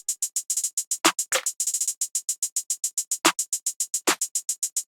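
Snares hit four times across an FL Studio trap beat, each a sharp crack landing among a steady stream of fast, bright hi-hat ticks, close and unaccompanied by voices.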